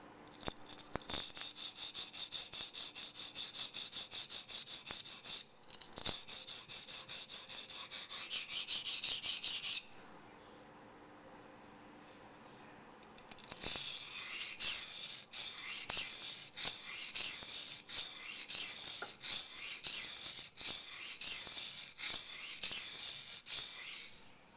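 Steady rasping strokes as a custom Les George VECP steel knife blade, its titanium handle taped, is sharpened up into the heel; the strokes are close and continuous, with a quieter pause partway through before they resume.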